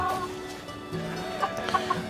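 Several chickens cluck softly nearby in short irregular bursts over a low background murmur.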